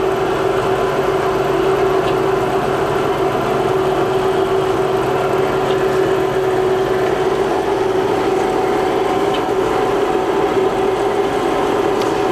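Cosen 10 x 11 inch fully automatic bandsaw with a 3 horsepower blade motor running steadily as its head rises and vise pushes in, a loud constant machine drone with a strong steady hum and faint periodic clicks.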